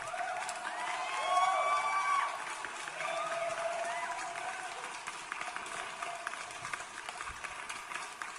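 Audience applause, a rattling spread of clapping that swells early and then continues at a lower, patchy level, with talk mixed in over it.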